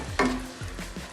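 Two finely chopped onions dropped into a hot pan, a sudden sizzle burst followed by softer crackling and a few light stirring scrapes.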